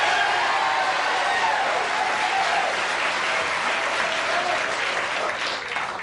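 A studio audience at a 1982 late-night talk show claps loudly and continuously, a thick roar of applause with scattered cheers that tapers slightly at the close.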